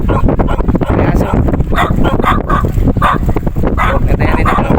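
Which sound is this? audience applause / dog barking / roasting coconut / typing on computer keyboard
dog barking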